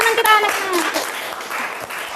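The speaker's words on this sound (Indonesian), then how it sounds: "Dan sekali beri tepuk tangan untuk teman kita anak-anak." Classroom applause for the children during a microteaching lesson, a soft wash of clapping running about two seconds, with a voice speaking over the first second.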